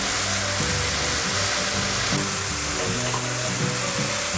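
Rehydrated porcini mushrooms go into a hot pan of mixed mushrooms; a loud, close, continuous sizzle fills the whole moment.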